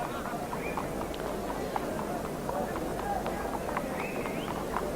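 Eight racehorses walk around the pre-race paddock before the 1987 Champion Chase at Cheltenham, their hooves giving soft, irregular clip-clops under steady crowd murmur and nearby talk.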